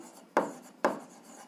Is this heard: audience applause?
no